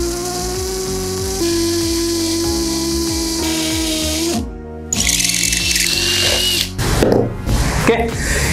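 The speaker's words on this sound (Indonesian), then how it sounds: "untuk performance-nya ngebor di material konkrit diameter 12 mm ini powerful ya" A DeWalt DCD7781 brushless 20V hammer drill bores a 12 mm hole into concrete, giving a steady whining motor drone with a harsher, noisier burst of drilling after a brief pause.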